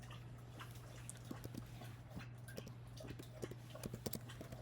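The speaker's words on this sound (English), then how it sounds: "My dog's drinking water" A dog lapping drinking water close by, a steady series of quick, soft wet clicks and splashes over a constant low electrical hum.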